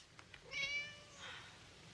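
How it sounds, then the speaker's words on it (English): Domestic cat meowing in a 1993 horror film scene, a single drawn-out mew followed by a softer second cry, fairly close and alone without speech. "It was a cat."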